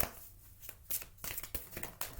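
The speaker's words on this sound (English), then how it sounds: "And then I will shuffle this deck." A deck of cards being shuffled close up, with several short riffling bursts and quiet pauses between them, fairly soft overall.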